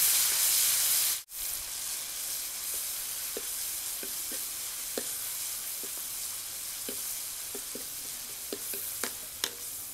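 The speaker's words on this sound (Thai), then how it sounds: "พริกแล้วก็กระเทียมแล้วก็หอมแดงนะคะเดี๋ยวเราจะมาดูกันนะคะว่าคั่วยังไงนะคะ ผัดยังไง" Chili, garlic and shallot stir-frying in a pan make a steady sizzling hiss with scattered light scrapes and taps of a spatula, after a brief abrupt cut near the start.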